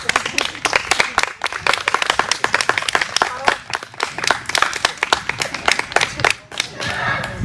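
An audience claps at a book presentation, with steady, close applause from a modest crowd and individual hand claps audible throughout, and a voice speaking faintly underneath.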